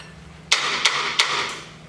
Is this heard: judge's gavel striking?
yes